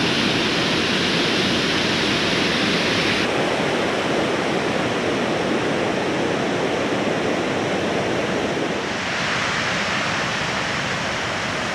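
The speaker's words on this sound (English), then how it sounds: "We've got the raging river" A raging river in Perthshire roars in a loud, steady wall of rushing water, close by and unbroken throughout, with no voices.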